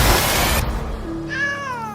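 In a horror-comedy film, a cat meows once up close, a clear drawn-out call rising then falling, after a short burst of noisy rustling.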